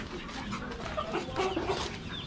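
Chickens cluck in short, soft bursts close by, scattered over a low background murmur without talking.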